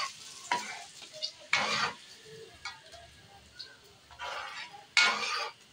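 Mung beans are stirred in a cooking pan, with intermittent scraping and clattering bursts of the utensil over a faint, ongoing sizzle.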